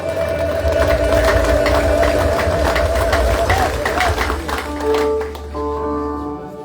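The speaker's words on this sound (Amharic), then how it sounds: "ሌላ ጭብጨባ" A church congregation at an Ethiopian worship service applauds in a loud, dense, continuous wash of clapping and crowd noise, with sustained tones and voices running underneath before it thins near the end.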